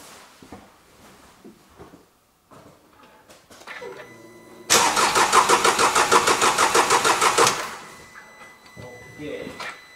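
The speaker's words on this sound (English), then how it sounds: "I rotate my ignition key and I try to start the car." A car engine cranks over with the ignition key but fails to start, a loud rapid rhythmic churning lasting about three seconds in the middle, with quieter cabin handling sounds before and after.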